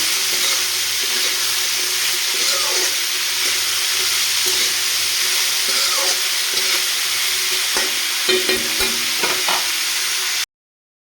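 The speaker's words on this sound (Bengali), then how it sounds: "পরিমাণ অনুযায়ী নুন ভালোভাবে মিক্স করে নেব" Vegetable chop filling being stirred and mixed with salt by hand in a bowl, a steady rustling, squelching churn with occasional sharper knocks, close and continuous for about ten seconds with no talking.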